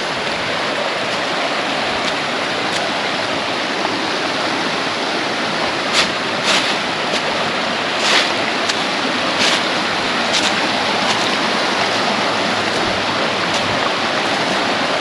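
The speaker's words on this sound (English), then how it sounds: "I just want to go up here to where the little waterfall is." A small waterfall on a mountain stream gives a steady, broad rush of splashing water that holds evenly throughout, close and fairly loud, with no voices.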